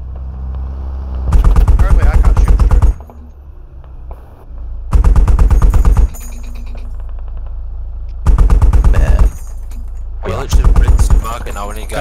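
Bursts of automatic gunfire in the video game Squad, four loud sustained strings of rapid shots separated by brief pauses over a steady low rumble, with no talk.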